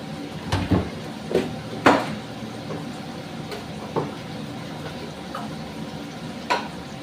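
Green jackfruit fried with turmeric in a pan, stirred with scattered scraping knocks and light sizzling at a steady, unhurried pace, close and fairly quiet with no talking.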